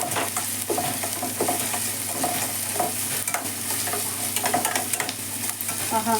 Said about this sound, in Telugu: మంచిగా కరివేపాకు ఫ్రై అవ్వగానే అల్లం తురుమండి.